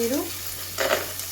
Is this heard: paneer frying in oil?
yes